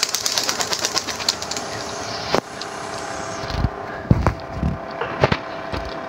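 A pet pigeon at a home loft flaps its wings in a quick fluttering burst as it takes off, followed by a few scattered thumps and scuffs nearby.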